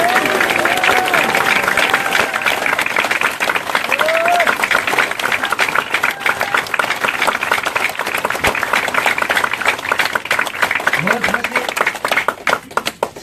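A crowd of campaign staff claps at a wrap-up gathering, sustained dense applause with cheers and voices mixed in, tapering toward the end.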